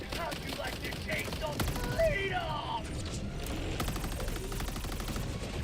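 Anti-personnel gun firing in a PS5 video game, a rapid mechanical rattle of repeated shots running steadily under faint game sounds.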